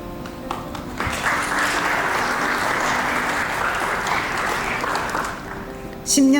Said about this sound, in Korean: 귀한 분들에게 감사의 박수를 부탁드립니다